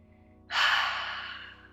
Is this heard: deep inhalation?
yes